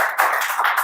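An audience at a children's seminar on Bharathi and Valluvar clapping together, a dense, loud burst of applause close by that keeps an even level with slight surges for under a second.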